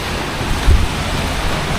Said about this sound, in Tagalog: grabe lakas ng ulan yun